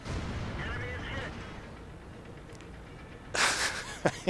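Artillery fire in the World of Tanks tank battle game: a loud, bright burst around the middle, followed by two short sharp cracks near the end, over steady game rumble.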